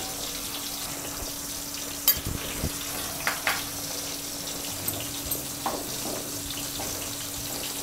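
Stuffed bitter gourd frying in a pan in a home kitchen, a soft continuous sizzle with a few sharp clinks and stirring knocks scattered over it.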